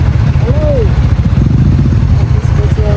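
Motorcycle ride through Edmonton traffic, a steady low engine rumble and wind noise running throughout at close range, with people talking over it.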